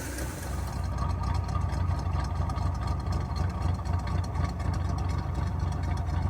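A Chevrolet Nova with a pump-gas 427 engine, Stainless Works headers and an exhaust leak idles steadily nearby, a continuous low rumble holding even for several seconds with no talk over it.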